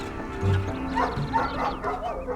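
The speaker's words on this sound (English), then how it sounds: "There's the dog." Dog barking in the video game Night in the Woods, a few short yaps and whimpers near the start, mixed with game ambience and faint voices.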